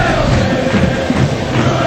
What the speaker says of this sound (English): Brilliant crowd on hand for the game today.